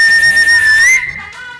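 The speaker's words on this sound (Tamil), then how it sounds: "ஐயோ, குஷ்பு விசில் அடிக்கிறாங்க யா" An actress gives a loud, sustained, piercing finger whistle lasting about a second, close and dominant before it cuts off into quieter room sound.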